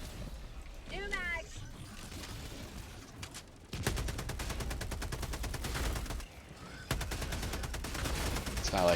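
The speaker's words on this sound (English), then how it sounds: "let's get the machine gun of awesomeness going on" Rapid bursts of video game machine gun fire rattle loudly in long sustained volleys, broken by brief pauses, with people talking over the shooting.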